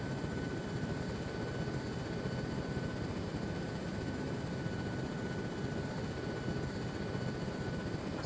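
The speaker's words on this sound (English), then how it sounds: "Artemis Actual is just on the helos, just coming in now" Military helicopters come in to land during a training operation, a low steady rotor and engine rumble heard from a distance, fairly faint and constant throughout, with no voices.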